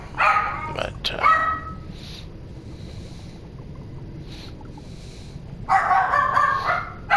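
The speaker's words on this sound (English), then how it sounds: "Again, you'll have to excuse the dog. She's gonna bark." A dog barks during a bass fishing trip, sharp close yips at the start and a longer burst of barking near the end, with faint distant yaps between and a single spoken word.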